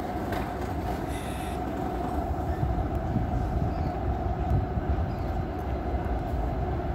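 A steady rumbling train roar with rolling wheel noise and a faint squeal, heard close by as it moves along the track past the platform at Graz central station, Austria.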